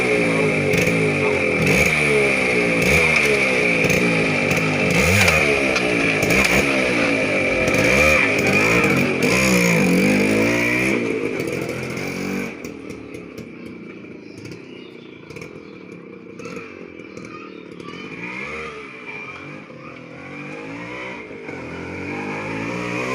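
A TVS Suzuki Max 100 Samurai two-stroke motorcycle engine revs hard in repeated rising and falling bursts, loud and close, before dropping back to a quieter idle.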